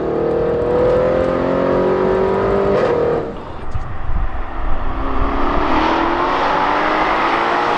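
A 750bhp Audi RS6 pulls hard in fourth gear, its engine note climbing steadily and loud from inside the car, then easing off and building again with road and wind roar.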